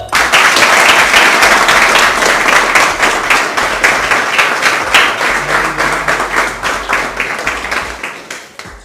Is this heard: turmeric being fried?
no